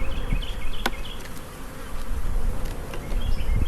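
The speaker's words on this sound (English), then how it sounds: "These bees are getting, you can see they're getting irritated." A dense, continuous buzz of many honeybees swarming close by during a spring hive split, loud and agitated, with no voices.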